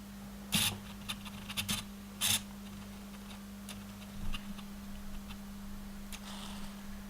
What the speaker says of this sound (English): it is very loud when it tries to focus